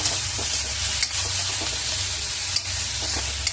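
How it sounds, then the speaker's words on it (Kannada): Chopped onions and tomatoes frying in oil in a pan, a loud continuous sizzle with a few sharp scrapes of a spoon stirring about once a second, no voices. "ಈರುಳ್ಳಿ ಚೆನ್ನಾಗಿ ಫ್ರೈ ಆಗ್ತಿದೆ"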